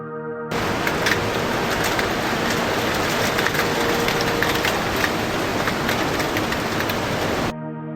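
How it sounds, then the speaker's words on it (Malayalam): A light monsoon drizzle on the route from Athirappilly to Chokkana, heard as an even, soft, continuous patter and hiss that starts and stops abruptly. "ഒരു ചെറിയ ചാറ്റൽ മഴ പെയ്യുന്നുണ്ട്"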